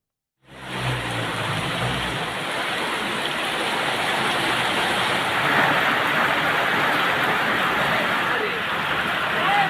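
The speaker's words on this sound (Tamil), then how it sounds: "சுமார் 2 மணி நேரத்திற்கும் மேலாக கனமழை பெய்தது" Heavy rain pouring for over two hours onto flooded town roads, a dense, steady hiss that starts abruptly and holds at a constant loud level throughout.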